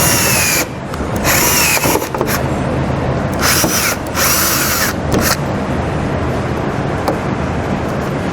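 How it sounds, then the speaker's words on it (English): A power drill with a 1/4-inch bit drills out the centers of plastic rivets holding a fender liner to a vehicle's front fascia, in several loud, whining bursts with short pauses between them. "Take a 1/4-inch drill bit, you're going to drill out the center of each of those."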